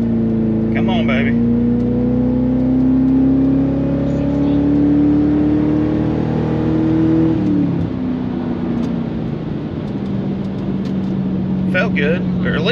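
A Ford Crown Victoria LX Sport with a 4.6L two-valve V8 drones loudly and close, its engine tone climbing gradually, then dropping and settling lower partway through.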